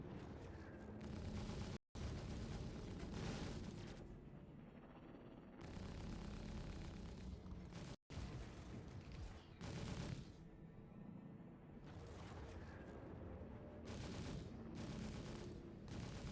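Gunfire hits a spaceship in Star Citizen, loud sustained barrages of rapid shots and impacts that break off briefly and then resume, keeping a heavy roar going.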